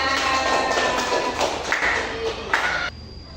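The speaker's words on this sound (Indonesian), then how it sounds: "Beri aplaus untuk kelompok 3" A classroom group claps for a presenting group, a short burst of scattered applause and taps in a room that cuts off abruptly.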